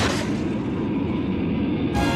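Cartoon rocket blasting off in an animated superhero show, a loud, steady roaring rush that fills the whole two seconds, shifting abruptly near the end.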